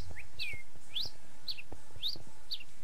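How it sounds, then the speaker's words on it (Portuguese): Bird song from the video game SurvivalCraft: a series of five short, bright chirping calls repeating at an even pace about every half second, clear over faint soft background noise. "Passarinho canta."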